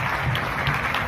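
Audience applause after a dance performance: a brief, steady burst of many hands clapping at moderate volume with no other sound over it.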